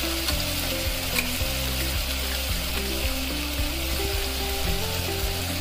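Spices frying with potatoes in a pan for Khandeshi green chilli khichdi, a loud continuous sizzle and bubbling under a low steady hum, with stirring noises throughout and no speech.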